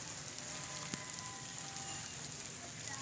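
The season's first summer rain falls in a village near Sargodha, Pakistan, as a faint, steady patter with scattered sharper drops ticking against surfaces; no speech.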